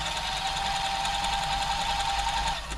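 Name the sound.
sewing machine sewing a stretch stitch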